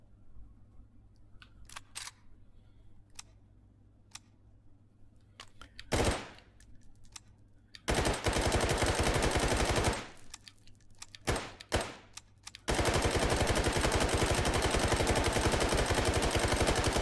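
Automatic gunfire in the VR shooter Hot Dogs, Horseshoes & Hand Grenades, Take and Hold mode, with tracer rounds loaded: quiet handling clicks, then a single sharp shot, then long, loud, rapid bursts of continuous fire.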